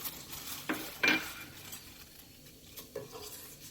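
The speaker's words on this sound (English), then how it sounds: "So here they are going into my boiling water" Pre-made boba pearls tipped from a cup into a pot of boiling water, giving a couple of soft clattering splashes followed by quieter bubbling and a faint clink.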